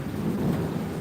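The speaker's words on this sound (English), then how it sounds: "You can probably hear in the background there's still a fair bit of thunder." Thunder from an afternoon thunderstorm over an Australian backyard rolls as a deep, continuous low rumble for about a second, with rain hissing beneath it and no voices.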